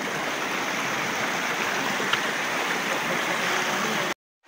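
A river flows in a steady, broadband rush of water, close and constant, with no talking, ending abruptly in a brief silence.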